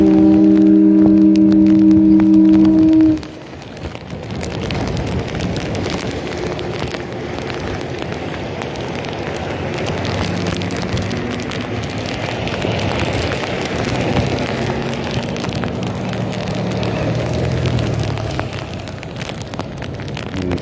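A short steady tone cuts off, then a dense, continuous patter of rain fills the air, loud and hissing, with faint tonal sounds drifting in behind it.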